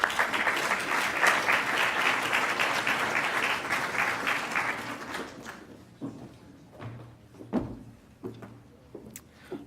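An audience at a senior awards ceremony claps loudly for about five seconds, then the applause dies away into scattered claps and room noises.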